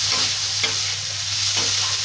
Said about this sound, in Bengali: দেখো এখানে ভাজি হচ্ছে উচ্ছে কুমড়ো